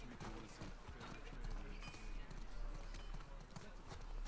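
Horse hooves clip-clop in the game The Last of Us Part II, a soft rhythmic trot heard faintly behind a player talking and in-game voices.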